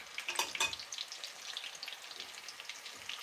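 Meatballs sizzle in hot grease in a pan for spaghetti and meatballs, giving a steady crackle with brief louder spatters near the start.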